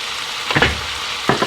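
Vegetables sizzle in a hot pan after a splash of Worcestershire sauce, a brief close frying hiss with two short bursts of crackle, and no talking.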